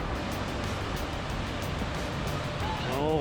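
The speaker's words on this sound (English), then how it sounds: "You can hear a second waterfall or another waterfall coming up." A waterfall in Lake Superior Provincial Park rushes as a steady, broadband roar that grows slightly louder toward the end. A brief voice comes in over it near the close.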